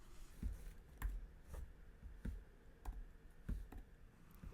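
Sparse, light key clicks come from a computer keyboard as numbers are typed into Cricut design software for a first birthday banner. The taps are quiet and close, spaced roughly half a second to a second apart, with no talking.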